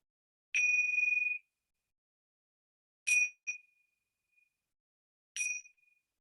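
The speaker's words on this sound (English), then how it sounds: "just take a moment, listen to the bells" Three separate bell strikes, each ringing clear and bright before fading, with long silent gaps between them; no voices.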